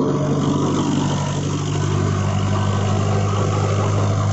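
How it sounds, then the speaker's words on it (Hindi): A Kubota MU4501 tractor pulling a 6 ft Shaktiman rotavator runs at 2000 rpm, pushing soil ahead: a steady, loud mid-pitched engine hum with constant low harmonics and a slight dip in intensity, unbroken and without speech. "ट्रैक्टर की 2000 आरपीएम पे चला रहे हैं हम"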